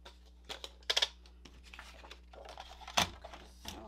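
Paper cut to a 4¾ by 3¾ inch piece for an envelope mini album gives quiet, crisp snipping and rustling, with sharper bursts near the start and again later.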